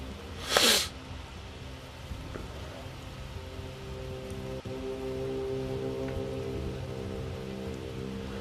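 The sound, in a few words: rainy background ambience in the video game BELOW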